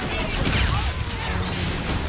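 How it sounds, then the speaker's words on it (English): Heavy gunfire from ATIS guns shooting down a fleet in Call of Duty Infinite Warfare, a loud dense barrage of booming shots rolling together with mechanical clatter. "Zetef is using our ATIS guns to shoot down the fleet"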